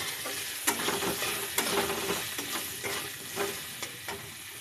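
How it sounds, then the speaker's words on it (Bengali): Potatoes frying in a pan with turmeric and salt, a steady close sizzle broken by repeated scraping stirs every second or so, with no talking. "এখানে হলুদ আর নুন দিয়ে ভালো করে লাল লাল করে আলুগুলোকে ভেজে নেব।"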